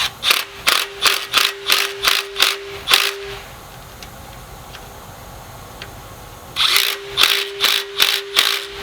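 A ratchet wrench clicks in quick, even bursts while tightening bolts on an engine oil pan during a rear main seal repair, close and crisp, with a pause of faint background noise between two runs of rapid clicks.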